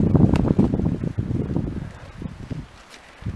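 Wind gusts across a beach campsite, a loud low rumbling buffet on the mic that swells and eases over a few seconds with faint rustling.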